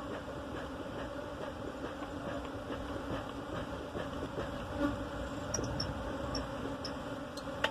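Aggressive Africanized honey bees at a hive, a steady dense buzzing drone with many insects close by, continuous and unbroken throughout.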